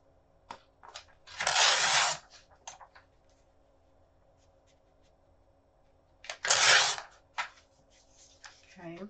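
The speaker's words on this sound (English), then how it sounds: "Just rip this off." Paper is ripped by hand for a junk journal page in two separate loud tearing rips a few seconds apart. Quiet taps and rustles of handling fall in between.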